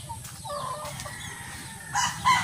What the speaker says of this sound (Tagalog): Maraming manok dito sa iniigibang ko eh.